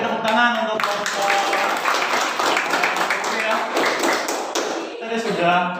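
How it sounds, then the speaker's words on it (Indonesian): A classroom group is applauded after presenting on simple machines and levers. Dense, steady clapping fills most of the stretch, with a voice speaking briefly just before and after. "Sekali lagi tepuk tangan untuk kelompok."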